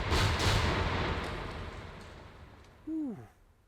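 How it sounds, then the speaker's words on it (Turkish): Booming Minecraft cannon bombardment rumbles in rapid succession, loud and fading, followed by a short bright whistling tone near the end. "Bunları da güm güm güm güm. Mesela bombardıman yaptık."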